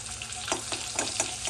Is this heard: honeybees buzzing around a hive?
no